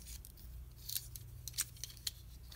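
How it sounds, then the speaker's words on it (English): Metal knives dropped into a handmade DIY tool caddy among scissors, giving several light, bright clinks and clatters spread across a couple of seconds over a low steady hum, close and fairly quiet. "my knives, put those right in here where my scissors are"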